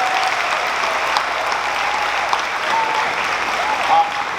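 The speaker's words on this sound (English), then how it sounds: "nice round of applause to the future contestant" Steady applause from a crowd at a graduation ceremony, continuous clapping throughout with a few louder claps standing out.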